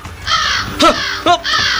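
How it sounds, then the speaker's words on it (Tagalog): A large crow in a radio drama gives a loud, close caw, then a second caw, set against a harsh screeching background. "May isang malaking uwak na nagbalik!"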